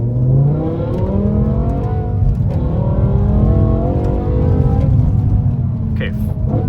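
A BMW M6 with its V10 engine accelerating on a road, a loud rising engine note that climbs through revs in sweeping harmonic pitch, close and continuous, with a brief high whine near the end.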